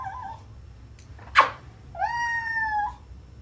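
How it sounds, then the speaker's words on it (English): A cat gives yodel-like vocalizations when briefly lifted a few inches and gently shaken: a short sharp sound, then a drawn-out wavering wail, close and fairly loud, with no talking. "a momentary vertical displacement of 4 to 6 inches will trigger the vocalizations of the cat, whereupon a gently applied shiver will complete the yodel"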